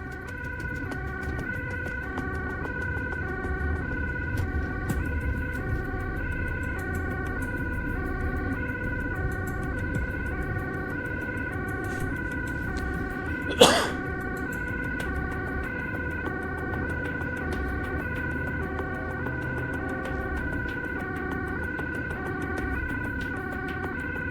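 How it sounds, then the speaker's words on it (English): A two-tone Dutch ambulance siren alternates in a steady rhythm, sustained over Amsterdam rush-hour road and traffic noise, with one sharp bang partway through. "Drivers on the first and second lane are well aware of the approaching ambulance"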